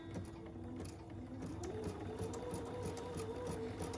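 A sewing machine stitching the first row of seams on a fabric project bag, running as a quiet, steady mechanical whir with a fast rhythmic needle tick, close and continuous with no talking.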